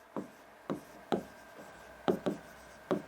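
A pen writes answer-practice notes on paper, producing soft rhythmic scratchy strokes in a steady, unhurried pattern, close and fairly quiet, with no talking.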